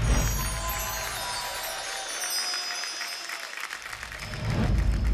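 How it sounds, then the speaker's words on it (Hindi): Studio audience applause on a TV dance show, Dance India Dance Super Moms: sustained dense clapping that fills the space throughout and swells louder near the end, with no talk over it. "तो तालियां हो जाए भावना के लिए एंड दीपिका के लिए"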